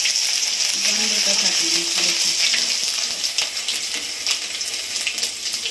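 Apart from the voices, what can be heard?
garlic frying in oil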